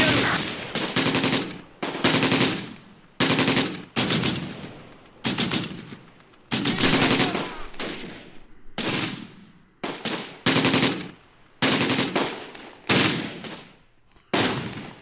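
Machine gun fire in the World War II strategy game Close Combat: Gateway to Caen comes as repeated loud, close bursts of rapid shots, each lasting about a second and separated by short silences.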